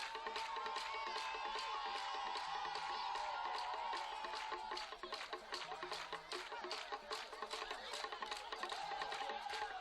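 A dense, electrified crowd at an Igbo masquerade dance cheers and claps without pause, with whoops and shouts layered over rapid hand-clapping, loud and close throughout.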